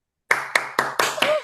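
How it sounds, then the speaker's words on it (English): A small group claps for contest participants on an online call, five or six loud, evenly spaced clap bursts at close range that build into quicker, overlapping clapping. "please unmute yourself so everybody can clap for them"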